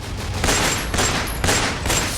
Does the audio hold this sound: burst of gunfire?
yes